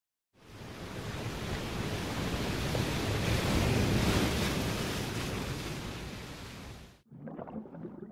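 Waterfall effect in a Korean children's audio story as a paper boat is swept into the falls: a loud, dense roaring wash of water that swells and holds for about six seconds, then cuts off abruptly into a quieter rushing tail.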